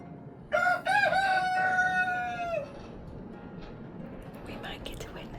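Hens settled together in a shared nesting box, one giving a single clear crowing-like call that rises and holds for about two seconds, followed by quiet low rustling and faint soft clucks.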